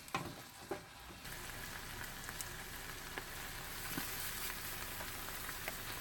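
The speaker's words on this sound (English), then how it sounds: "I'm going to mix this well and let it fry for another 2 to 3 minutes" Food sizzling and frying in a pan while being stirred, a steady crackling hiss with occasional louder clinks and scrapes, close and continuous with no talking.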